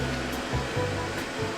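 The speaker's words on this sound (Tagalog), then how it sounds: "The robot is starting the cleanup." A robot vacuum cleaner runs through a condo cleanup with a continuous broadband whir and hiss, steady and fairly close, with no talking.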